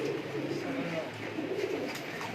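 Rare breeder pigeons coo softly in a loft in Sheikhupura, a low murmuring coo running continuously beneath someone talking.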